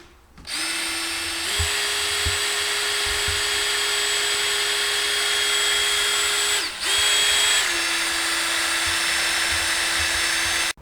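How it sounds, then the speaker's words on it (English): A power drill bores out a hole on a Kawasaki KX250F dirt bike, a loud steady whine that shifts pitch slightly mid-run and pauses briefly before continuing, close up with no talking. "Back to boring it out."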